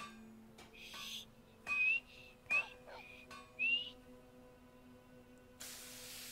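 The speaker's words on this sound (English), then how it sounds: "Whistle." A character in the Skyrim video game whistles for a horse: several short, rising whistle notes, separated by brief gaps, over quiet game ambience, followed by a burst of hiss.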